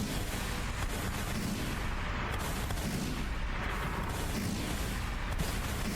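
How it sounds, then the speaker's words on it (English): Video game gunfire and artillery pounding steadily, a dense, continuous wall of booms and shots with no pauses, loud and unbroken throughout. "Are you using gunshots?"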